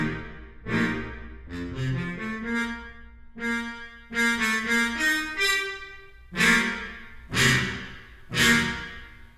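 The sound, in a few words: trombone ensemble Harmon mute patch, CineBrass Pro sample library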